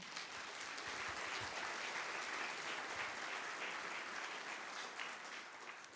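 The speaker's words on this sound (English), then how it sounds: "It's a good thing you clapped because it says pause for applause" Sustained audience applause at a charity gala benefiting dementia care, a dense, steady wash of many hands clapping at even loudness throughout with no voices over it.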